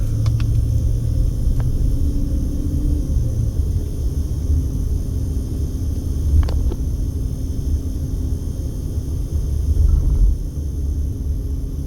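A car driving along Nellis Blvd near Lake Mead in Las Vegas and making a U-turn, heard from inside as a continuous low road rumble with faint ticks and a slight swell near the end.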